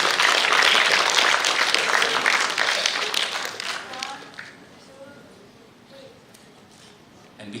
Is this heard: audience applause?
yes